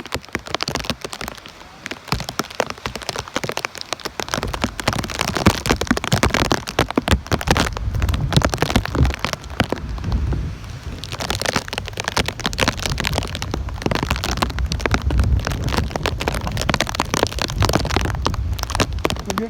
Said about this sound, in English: We're getting some heavy rain now.